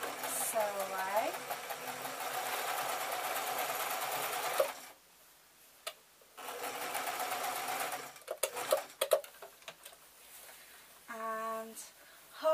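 A sewing machine stitches a seam on a tote bag in several bursts of fast needle clatter separated by short pauses, close and fairly loud.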